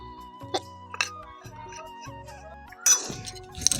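Chili powder, salt and Maggi masala get mixed in a bowl, a spoon clinking against the side several times in light, irregular taps, with a brief scraping rustle near the end.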